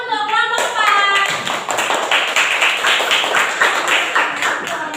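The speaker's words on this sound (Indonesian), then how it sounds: "Beri tepuk tangan untuk kelompok 4." A classroom group claps for presenting group 4, rhythmic fairly close hand claps in a steady patter after a brief opening tone, fairly loud and continuing to the end.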